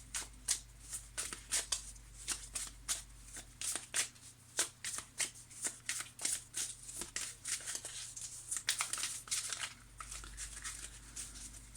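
Tarot cards being shuffled by hand, a rapid series of crisp riffling bursts in a steady rhythm for over ten seconds, close and fairly loud, with no talking.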